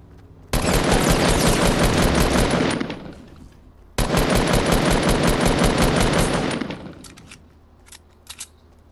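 Automatic-rifle fire in Fortnite, two long sustained bursts of rapid shots close and loud, each about two and a half seconds with a short pause between, followed by a few faint single clicks.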